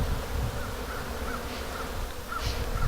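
Honeybees buzzing around a busy backyard beehive, a steady low insect drone close by with faint bird calls in the background.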